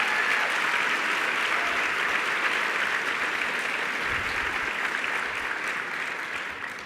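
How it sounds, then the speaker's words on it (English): Sustained audience applause at a general session of a conference of the Americas, steady and dense throughout, tapering slightly at the end. "Can you join me in giving her another round of applause?"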